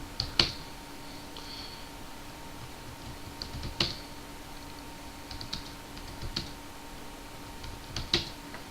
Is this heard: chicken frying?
no